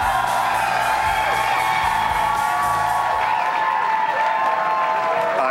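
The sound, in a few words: convention crowd applause and cheering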